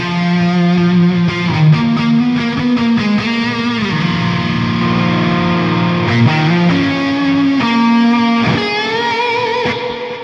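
Distorted electric guitar on a Solar guitar playing a melodic lead line, drenched in delay and reverb, sustained notes trailing into echoes throughout.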